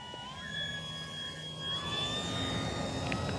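An Arrows Bigfoot 1.3m RC model plane flies overhead, its electric motor a steady whine that shifts slowly in pitch against a constant wash of outdoor wind noise.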